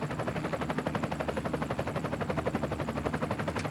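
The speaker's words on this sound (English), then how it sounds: "I guess I'm in a helicopter." Helicopter rotor in a zombie shooter video game, a fast rhythmic chopping pulse that stays loud and steady throughout, with no speech.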